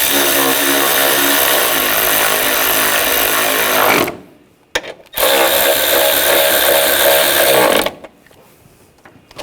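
Power tool runs in two loud, close bursts, tightening bolts on the thermostat housing of a 2000-2006 BMW X5 3.0L inline-six, each whirring for several seconds and stopping abruptly, with a short gap between them.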